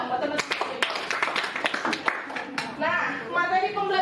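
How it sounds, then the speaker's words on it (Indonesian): Students in an economics classroom clap for their classmates, with scattered close claps building into a short burst of applause, while a voice talks over it. "Beri tepuk tangan dong buat teman-teman"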